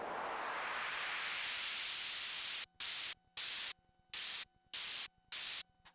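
Broadband white noise swept through high-pass and low-pass filters, starting as a steady hiss that darkens, then chopped into six loud on-off bursts with short silent gaps between.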